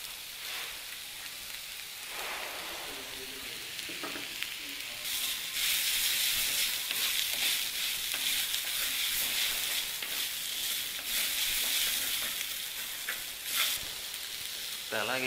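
Chopped onions and beans sizzle and fry steadily in a pan for upma, a continuous bright crackling hiss that swells louder partway through, with occasional stirring scrapes and no talk.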